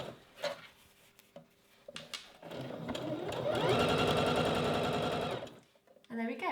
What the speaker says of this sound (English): top stitch with a 3-step zigzag stitch